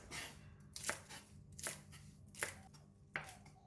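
Knife chopping spring onions and Chinese parsley on a cutting board, about five crisp, evenly spaced cuts close by and faint, with no other sound.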